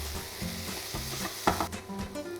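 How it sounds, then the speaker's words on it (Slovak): Root vegetables frying in olive oil in a hot pot, a steady close sizzle broken by scraping stirs and a few sharper clacks of the utensil against the pot. "Do horúceho hrnca dáme olivový olej a koreňovú zeleninu. Necháme smažiť."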